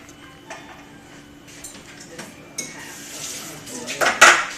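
A metal spoon clinks and taps against dishes while cupcakes are being made, with scattered light knocks building to a louder clatter near the end.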